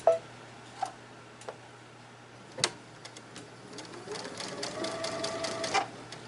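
Close sewing machine stitching quilt fabric pieces for flying geese blocks, a few separate clicks and short bursts that build into a steady rapid stitching run near the end over a faint low hum.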